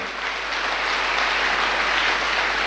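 A crowd at a speech applauding continuously, a dense even wash of clapping that swells slightly and holds for a few seconds.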